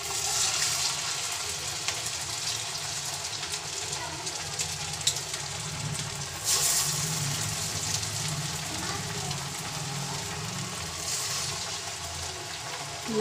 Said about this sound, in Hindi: इधर हो गया मेरा तेल गरम, तो मैं एक एक डाल के इसमें निकालती हूँ